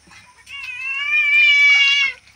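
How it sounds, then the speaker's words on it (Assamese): A cat meows once, a long rising and falling cry close to the microphone, clear over a quiet rural background. "মেকুৰীটো আকৌ ইমান খান্দিছে দিব বুলি"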